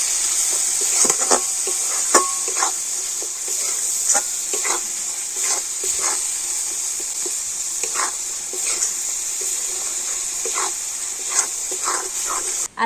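Milk cream and batasa sugar drops are mixed for sarpuria, with faint wet scraping and irregular ticks of a spoon against the bowl over a steady background hiss. No one talks.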